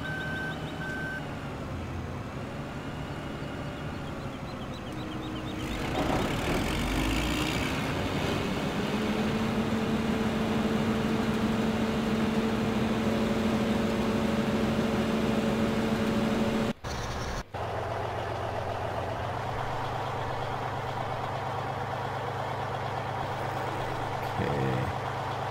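A truck in the Farming Simulator 15 video game sounds steady reversing beeps over a low idling engine hum, with the tone shifting partway through and a brief dropout; nobody speaks.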